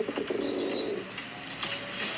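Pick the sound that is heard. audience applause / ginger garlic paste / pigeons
pigeons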